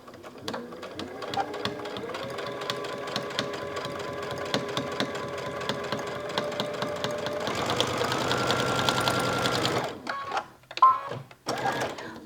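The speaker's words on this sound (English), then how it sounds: "stitch along this edge right here. And just stitch all the way across." A sewing machine stitches straight across a fabric edge, its steady motor whir and rapid needle chatter running continuously and loud, then briefly changing pitch before stopping, with a few short clicks and handling sounds at the end.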